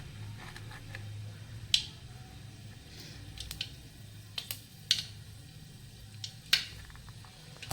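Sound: mustard seeds spluttering in hot oil

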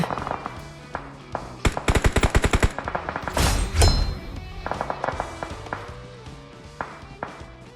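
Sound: gunfire in the video game PUBG Mobile

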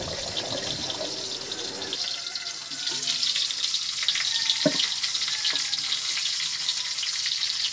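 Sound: sautéing boiled pork leg with onions

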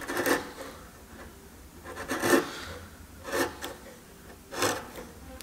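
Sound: chisel paring English oak face frame

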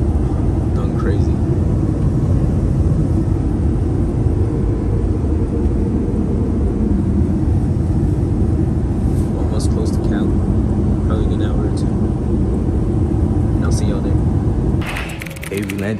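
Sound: small airplane in flight, cabin noise

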